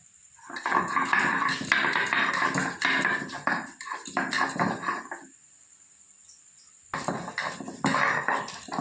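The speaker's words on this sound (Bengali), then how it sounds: "আমি আদা রসুন বেটে নেব" Ginger and garlic are ground on a flat grinding stone, making rough, rhythmic scraping strokes in three bursts with short pauses between them. The sound is close and fairly loud.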